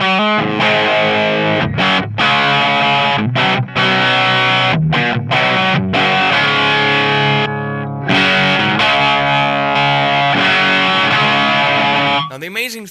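Heavily saturated, distorted guitar tones driven through a Gainiac MP Custom FX digital tape machine, loud and thick with chopped phrases and brief gaps between bursts.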